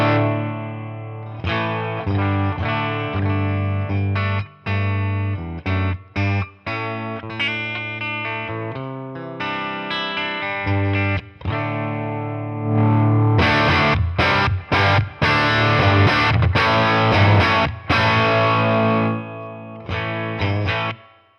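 Electric guitar through a lightly overdriven Boss Katana 50 EX Gen 3 amp, low-gain crunch, gritty chords and riffs with stops and bursts, growing louder and more driven in the second half.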